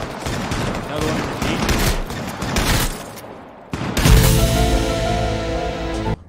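Rapid bursts of gunfire from the online shooter game H1Z1 crackle loud and close in dense volleys, pausing briefly before a heavier, sustained barrage.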